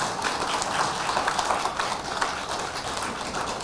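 An audience at a Korean lecture gives sustained applause, a steady dense patter of many hands clapping with no talking over it.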